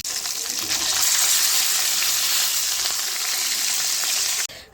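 Fish frying in a pan gives a loud, continuous hissing sizzle that holds steady for several seconds before cutting off abruptly near the end.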